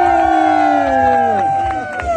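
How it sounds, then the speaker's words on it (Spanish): A crowd at a party at Rancho Milagro cheers and shouts for Adán, with loud, sustained voices and whoops rising together and cries sliding down in pitch throughout. "A las tres que se escuche el aplauso para Adán."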